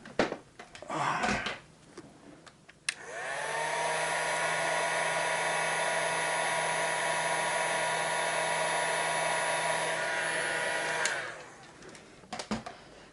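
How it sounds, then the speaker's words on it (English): Heat gun blowing hot air to shrink heat shrink tubing over soldered wiring on a prop gravity hammer build, a steady whirring fan roar that starts abruptly, holds for about eight seconds and cuts off, with faint handling noises before and after. "Get the heat shrink tubing in place. Let's shrink it down."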